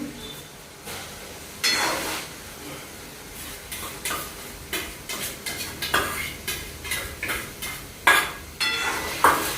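Onions go into a hot pan for paneer angara, followed by a series of spoon clanks and stirring scrapes against the pan over a low sizzle, fairly close with an irregular rhythm.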